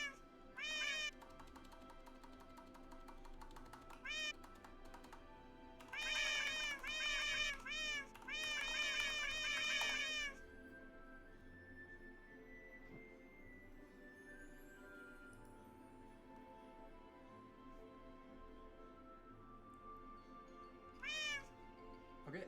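A meow keyboard plays synthesized cat meows in short clustered bursts: a few near the start, a dense run of rapid meows in the middle, and one more near the end. Low background noise fills the gaps.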